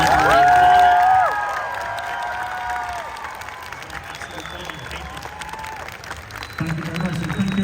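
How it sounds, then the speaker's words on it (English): Convention crowd at a Harry Potter panel applauding and cheering for the panelists, a loud burst at the start with high whistles and shouts that settles into lighter clapping and chatter, then swells again. "please give another round of applause for James, Oliver,"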